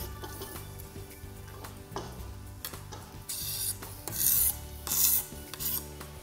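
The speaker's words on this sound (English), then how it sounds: "I'm going to take up my big board and just slide everything in" Chopped vegetables scraped off a big chopping board into a pot with mince give a rasping, scraping slide, followed by bursts of sizzling hiss as they hit the hot pan.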